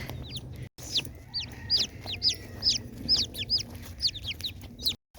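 Broody hens cluck in a coop, a steady run of short, fairly close clucks and murmurs repeating in loose bursts over a low background hum, with no talking.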